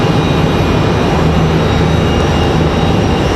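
An American Airlines jet arriving at Raleigh-Durham International from Miami, a loud continuous broadband engine roar with a low droning hum, steady and close throughout, no voices.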